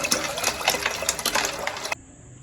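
Water splashes steadily onto homemade butter in a bowl, washing it before it is cooked down into ghee, a close, busy pour lasting about two seconds before stopping abruptly.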